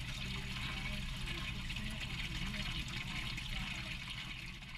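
Water draining through oyster aquaculture silos and drain stacks at Plymouth Bay: a continuous rushing, trickling flow, steady and moderately close, with a low hum beneath and no voices.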